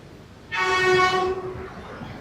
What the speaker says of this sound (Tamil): ட்ரெயின் வருது அதில் பார்க்க எப்படி இருக்கு.